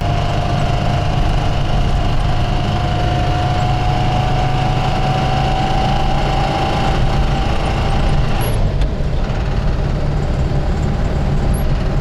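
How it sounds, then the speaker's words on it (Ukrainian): An IZh engine knocking as it runs in traffic, a loud, steady mechanical rumble that continues unbroken with no talking. "гірше став їхати, коротше, застучав мотор"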